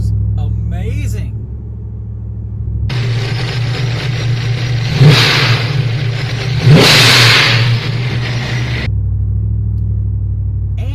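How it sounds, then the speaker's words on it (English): An engine with a centrifugal supercharger revs hard twice with rising whine, each burst ending in a sharp blow-off valve whoosh, loud and close amid a steady idle rumble. "Their blow-off valve sounds amazing."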